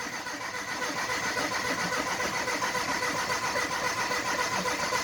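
Engine with a manual choke cranking and catching, a rapid rhythmic starter churn turning into a steady running engine, loud and close, with no voices.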